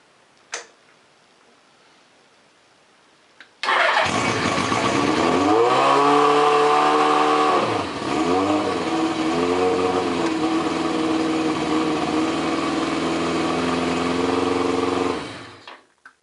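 A Suzuki GS850 motorcycle engine fires up after a short pause and then idles loudly, rising and falling through a couple of revs before shutting off near the end.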